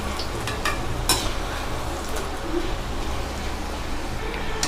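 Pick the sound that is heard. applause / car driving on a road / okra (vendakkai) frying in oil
okra (vendakkai) frying in oil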